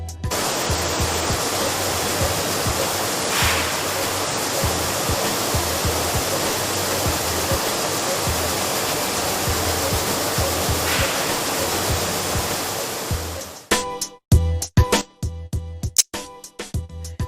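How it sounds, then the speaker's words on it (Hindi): Wheat being rinsed with clean water in a flour factory washing system: a loud, steady rush of flowing water fills most of the stretch before breaking into uneven splashes and knocks near the end. "इस सिस्टम में गेहूं को साफ पानी से धोया जाता है"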